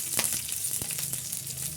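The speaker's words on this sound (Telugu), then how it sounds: "చిటిపట్టలాడుతున్నాయి ఫ్రెండ్స్" Mustard seeds spluttering in hot oil in a pan while making vegetable upma, a continuous close crackling sizzle with quick irregular pops, no voices.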